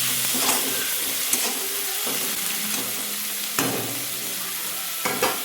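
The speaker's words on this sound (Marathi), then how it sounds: "आता आपण त्यात टोमॅटो टाकूयात ते पण एकदम छान मिक्स करून घेऊयात" Onion and tomato sizzle and fry in a pan while a spoon stirs them, with a steady close hiss and a few sharper scraping knocks from the stirring.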